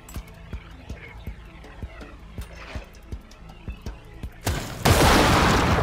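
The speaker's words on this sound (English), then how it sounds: "I thought I had a bigger explosion radius than I did." In the SteamWorld Heist 2 video game, regular sharp gunshots repeat at a quick, even pace, then a loud explosion bursts into a long, dense roar that fills the end.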